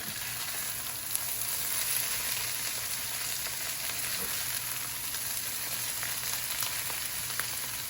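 Food fries in a pan with a steady, dense sizzle that holds evenly throughout, close and fairly loud, broken only by a couple of tiny pops.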